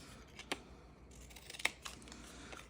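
A few sharp snips of scissors cutting paper, spaced irregularly, close and quiet, with soft rustling in between.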